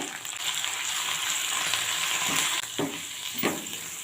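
Garlic and fresh coriander leaves frying in a pan with pepper and ginger, a steady near hiss of oil with a couple of brief scraping stirs toward the end, no voices.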